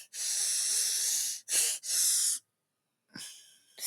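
Heavy, hissing breaths close to the mic, in three long exhalation bursts followed by a pause and a shorter breath, with no talking.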